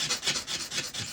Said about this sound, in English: So I'm going to do a little sanding